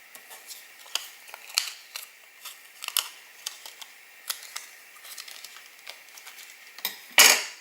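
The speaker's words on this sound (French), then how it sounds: "après, je vais découper comme ceci" Scissors cut card paper for a fun fold card, making a series of small crisp snips and paper rustles at an uneven pace, close and soft, ending in one louder crinkle, with no voices.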